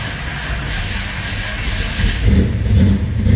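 A 1969 Chevrolet Chevelle SS V8 engine cold-starting after sitting for a while, a loud, close, rough rumble that swells as the revs rise toward the end.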